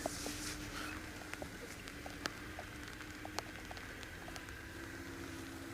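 Steady light rain pattering on a surface, with scattered soft drips and taps over a low constant hum; no voices.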